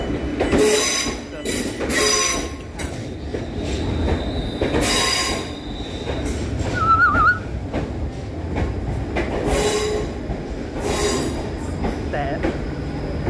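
A train carriage rolls through the station at Leamington Spa, a loud, close rumble of wheels on rails with repeated high metallic squeals and some clickety-clack over the track joints.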